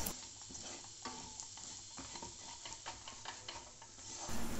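Kashmiri chili and turmeric powder being stirred into hot oil in a pan, a soft close sizzle with repeated scraping strokes of a spoon.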